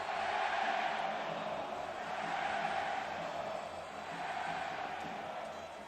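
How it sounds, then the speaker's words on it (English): A large arena crowd at a Puerto Rico versus Panama basketball game, FIBA Centrobasket 2016, chants in Spanish. The roar stays loud and steady throughout, a dense wash of many voices with no single speaker standing out. "Not sure what the crowd was chanting there, something in Spanish."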